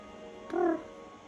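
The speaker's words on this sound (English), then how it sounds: "I've got the cat here with me." A single short, soft meow from a cat close by, rising slightly and fading, against a quiet background hum.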